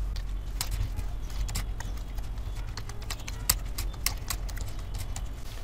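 Rapid, uneven clicking of keys on a computer keyboard as a question is typed into ChatGPT, close and fairly quiet, with irregular bursts of keystrokes over a low background hum.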